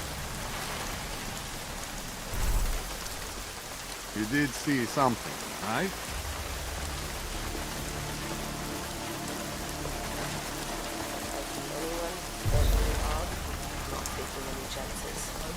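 Constant rain falling in the video game Deus Ex: Mankind Divided, an even hiss of drops on surfaces throughout, with brief game voices and a few louder thumps over it.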